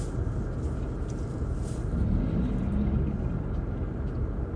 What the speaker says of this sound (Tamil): ட்ரக்கு சுத்தமாக மூவ் ஆகல, டயர் தானாக சுற்றின்னு இருக்கு